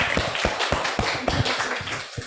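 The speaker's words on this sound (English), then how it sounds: "So just give a round of applause for a great achievement for Agnieszka." Audience applause after an introduction at a health economics lecture: a short burst of dense, steady clapping from a roomful of listeners that carries on for a couple of seconds without a break.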